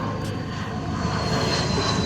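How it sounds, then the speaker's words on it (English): An airplane flying overhead gives a broad, steady engine roar that fills the scene and swells slightly toward the end, with no talking over it. "Okay, plane's going over."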